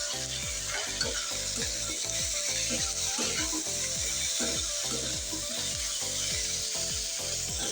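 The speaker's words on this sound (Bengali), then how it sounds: "এতে আমি দেখো চিংড়ি মাছগুলো ভালো করে ভেজে নিচ্ছি পেঁয়াজের সাথে।" Shrimp fry with onions in a pan, a steady loud sizzle broken by repeated rhythmic scraping strokes of a spatula stirring the mixture.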